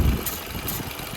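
A car engine with a suspected fault runs steadily at idle, giving a continuous rough, broadband rumble with slight vibration and no clear rhythm, close and moderately loud throughout.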